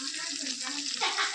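Tomatoes and green chillies fry in a pan with a steady, close hiss of sizzling oil that holds for about a second and a half, with no one speaking.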